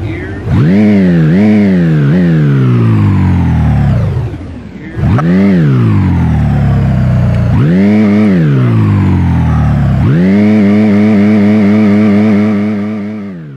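A car engine in a Unity game test with the Sacc Vehicle System, fitted to a custom 3D model car, revs loud and close in four rising and falling bursts as the gears shift, with no other sound over it.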